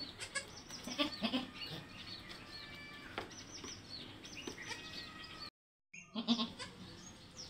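A farm goat that has just given birth bleats in short, nasal cries at intervals, close and fairly faint, among other farmyard animal and bird sounds, with a brief silent gap partway.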